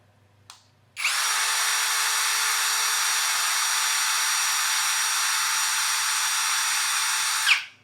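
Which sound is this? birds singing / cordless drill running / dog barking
cordless drill running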